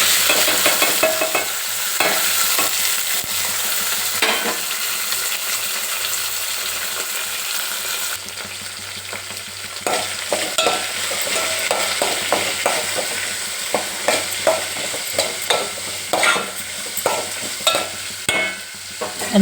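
Brinjal and vegetable pieces frying in a tempering of chana dal, cumin and mustard seeds: steady sizzling with repeated sharp scraping strokes of a spoon stirring the pan, growing more frequent toward the end.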